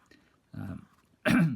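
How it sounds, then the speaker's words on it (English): Two short bursts, a muffled cough followed by a louder, harsher cough or throat-clearing, close and alone in a quiet room. "Excuse me, coughing."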